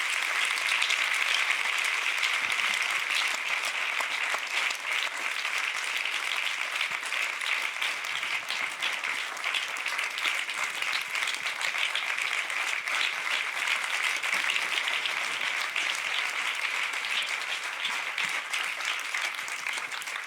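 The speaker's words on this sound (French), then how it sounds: "Applaudissez-le." Sustained applause from a human-rights film festival audience greets a panel speaker, the UN agency's commissioner-general, a dense, steady clatter of many hands that holds at an even level for about twenty seconds with no break.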